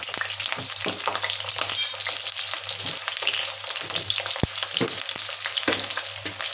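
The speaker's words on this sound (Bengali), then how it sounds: "এইবারে তেলের মধ্যে আলু দিয়ে আলুটা একটু ভেজে নেব ভালো করে" Potatoes frying in hot oil give a dense, continuous crackling sizzle with occasional stirring knocks, close and fairly loud, heard alone without speech.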